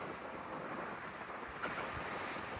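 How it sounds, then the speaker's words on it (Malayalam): Strong wind blows across the open sea on a gillnet fishing boat, a steady rushing roar of wind and waves with buffeting on the microphone, no voices. "കാറ്റ് അതുപോലെ തന്നെ ഇങ്ങനെ വേഗത്തിൽ വീശി അടിച്ചോണ്ടിരിക്കുകയാണ്"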